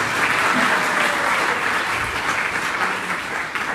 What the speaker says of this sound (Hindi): आप सभी के बीच में इनका तहे दिल से जोरदार ताली से इनका